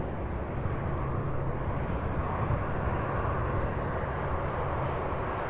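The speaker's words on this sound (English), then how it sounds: "Our next UPS arrival here is an MD-11 out of Houston, Texas" A UPS MD-11 cargo jet arriving at Louisville International Airport produces a continuous, broad engine roar that holds steady and fairly loud throughout, with no voices over it.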